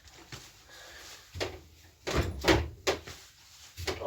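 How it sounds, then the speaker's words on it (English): A door being shut in a workshop during work on a Ford engine and steering for a County 774 tractor, with several close knocks and thuds in separate bursts. "Let's shut the door."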